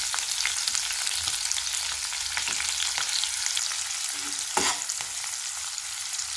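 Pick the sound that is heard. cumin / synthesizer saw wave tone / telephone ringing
cumin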